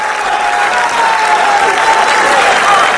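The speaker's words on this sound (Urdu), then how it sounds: "بھرپور تالیوں میں تشریف لاتے ہیں" Dense applause from an audience fills a poetry recital (mushaira) in Dubai as a poet is welcomed onstage, steady and loud throughout, with a faint tonal whistle or voice riding over the clapping.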